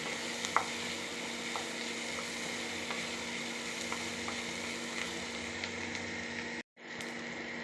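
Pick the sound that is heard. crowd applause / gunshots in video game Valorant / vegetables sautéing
vegetables sautéing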